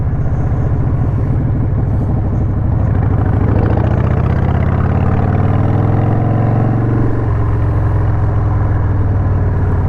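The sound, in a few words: 2003 Harley-Davidson Sportster motorcycle engine running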